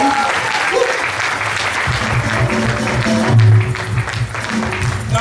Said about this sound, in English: Please let's give a clap offering to the Lord and welcome our daddy.